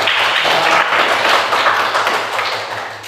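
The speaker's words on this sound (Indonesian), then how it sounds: "tepuk tangan untuk kelompok kita" A classroom breaks into dense, steady clapping for a student group, loud and close, tapering slightly at the end.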